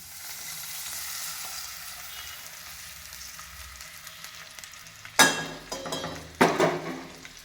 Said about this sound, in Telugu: ఉల్లిపాయలు వేసుకున్నానండి ఆయిల్ వేసుకుంటున్నాను